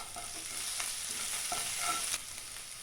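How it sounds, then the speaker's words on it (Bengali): Salt and sugar being stirred into a Bengali spinach shukto in a pan, a soft continuous sizzle with light scraping stirs close by. No speech. "এরপর এর মধ্যে আন্দাজ মতো নুন ও চিনি দিয়ে দিচ্ছি ও নাড়াচাড়া করে নিচ্ছি।"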